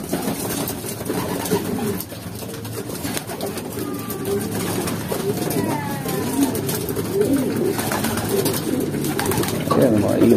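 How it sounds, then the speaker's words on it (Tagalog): Pigeons or doves belonging to a pigeon racer coo and call repeatedly in a busy loft, soft overlapping cooing with occasional bird chirps under a constant murmur of background noise. "Ayan, mga ibon ni sir."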